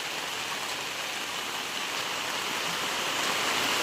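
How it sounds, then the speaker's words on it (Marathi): Heavy rain falls on a dark morning after pouring all night, a close, loud, unbroken hiss of dense rainfall that builds slightly toward the end, with no voices. "आता पुन्हा काल रात्रीपासून जबरदस्त पाऊस पडतोय"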